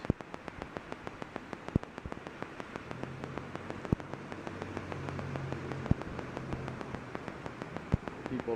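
Heavy downpour from a flash-flood thunderstorm on Long Island, a steady dense hiss of rain with sharp drips and splatters striking nearby surfaces throughout.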